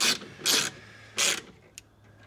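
Small screws on a Ford F-150's new door speakers being driven in, three short bursts of ratcheting, grinding turns with a faint tick near the end, close and fairly loud against a quiet background.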